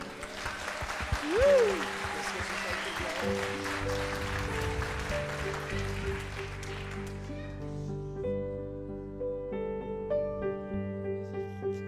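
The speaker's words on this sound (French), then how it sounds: "Je vous demande, mesdames, messieurs, d'applaudir Colin." A French TV studio audience applauds on a children's singing show while tonal music plays over the clapping, which thins out midway as the sustained musical notes carry on alone.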